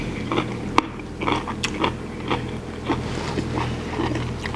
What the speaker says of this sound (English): I don't know if you can hear the crunch of the top of the broccoli is perfectly cooked.